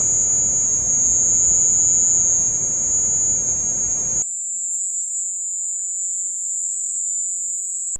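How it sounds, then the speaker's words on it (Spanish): A continuous high-pitched insect buzz, steady and loud, over faint background noise that drops away halfway, leaving the shrill tone alone. "este ruido común es muy parecido al ruido de una cigarra"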